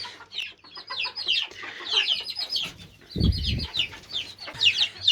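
Laying hens in a coop cluck in quick, chattering bursts, several birds overlapping nearby, with a brief low thump or wing flap near the middle.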